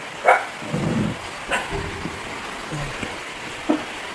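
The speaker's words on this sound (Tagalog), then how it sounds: "sobrang lakas talaga ng ng pagpatak talaga ng ulan" Steady rain hisses in the background while a dog barks a few sharp times nearby.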